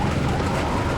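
An ambulance siren on a busy road, loud and continuous through a dense wash of traffic noise, with no talk.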